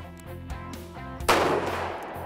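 Browning 300 Win Mag bolt-action rifle fired at an outdoor gun range, a single sharp loud report with a brief decaying echo following a few quieter moments.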